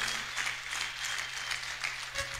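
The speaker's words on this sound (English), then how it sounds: "Clap for Jesus." A church congregation claps during worship, a brief, fairly even patter of many hands over a low steady hum, moderately loud and without speech.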